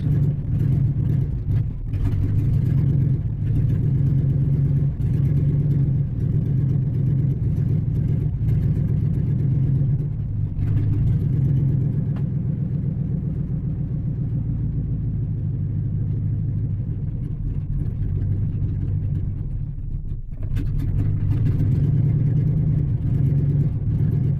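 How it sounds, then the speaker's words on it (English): A car engine that will not take throttle as it runs out of fuel, idling as a steady, loud, close low rumble that stumbles and dips briefly a few times, with no speech. "it's trying to run out of gas is what it's doing"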